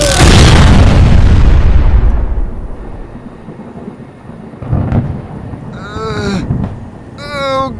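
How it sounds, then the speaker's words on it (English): A lightning strike lands with a huge, close boom that rolls into a long rumble and fades over a few seconds, followed by faint shouting voices. "We get struck by lightning"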